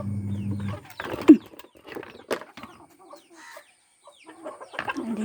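Chickens in a coop give a few scattered clucks and short calls among soft rustling, moderately close, with quiet gaps in between.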